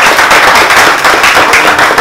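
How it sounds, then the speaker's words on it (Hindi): Dense, loud applause from an audience clapping for their teachers at a student gathering, a steady wash of many hands filling the whole stretch with no pauses. "मेरे यानी जो टीचर हैं उनके लिए एक बार और तालियां"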